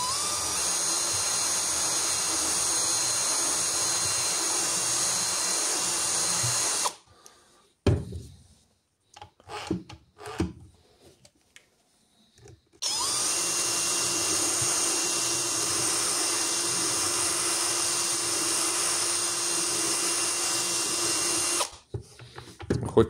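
A power drill sharpens a saw chain, whining loudly and steadily in two long close runs, with a stretch of short bursts, knocks and quiet between them.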